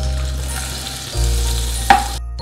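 Butter sizzling in a hot pan, a steady close frying hiss with a low hum beneath it, a brief clink near the end, and no talk.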